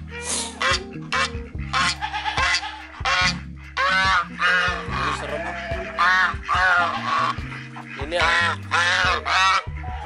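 Ducks in a pen honk and quack repeatedly in loud, close bursts, calls overlapping over a constant low hum.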